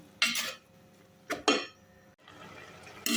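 Fish meat dry-roasted in a pot for a Thai fish curry noodle sauce, heard as a few close, distinct scrapes and stirring clatters of a utensil against the pot, separated by short quiet gaps.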